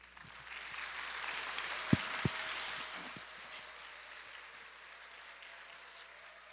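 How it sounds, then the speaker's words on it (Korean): A church congregation applauding to welcome a guest lecturer: a faint, distant wash of clapping with a couple of sharper claps that fades out gradually. "여러분 우리와 같은 큰 박수로 강사님 모시도록"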